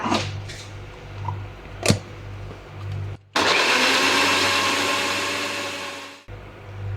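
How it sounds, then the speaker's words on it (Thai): An electric blender whirs loudly for about three seconds, blending sauce ingredients with fish sauce. A few kitchen clatters come first, and the motor starts abruptly and stops just as suddenly. "เดี๋ยวจะเอาไปปั่นนะคะ"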